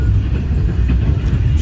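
Inside the old parlour car of the Shalimar Express, running at night between Multan and Karachi, a loud, continuous rumble of wheels and carriage fills the space, with a dense low roar.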